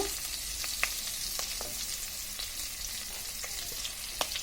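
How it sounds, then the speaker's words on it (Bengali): Hilsa fish fries in hot oil in a home kitchen, giving a steady soft sizzle and hiss throughout with a few faint clicks of a utensil against the pan. "আমরা মাছটাকে লাল করে ভেজে নেব।"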